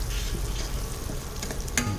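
Chicken pieces frying in a pan after being mixed with turmeric, chili powder, salt, garam masala and coriander powder, giving a steady close sizzle with a brief stir or clatter near the end.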